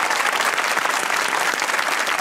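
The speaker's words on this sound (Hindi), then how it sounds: "तालियां आपके लिए।" An audience in a television studio claps loudly and steadily for a couple of seconds, a dense wash of applause with no other sound standing out.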